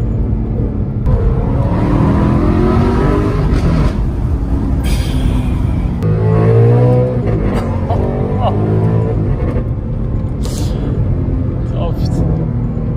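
An Alfa Romeo 8C engine roars and accelerates through rising revs, loud and close, with gear changes and a steady rumble throughout.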